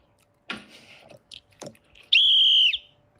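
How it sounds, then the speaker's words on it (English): A whistle gives one loud, sustained blast lasting about half a second, following a few scattered rustles and handling noises. "Where's my whistle?"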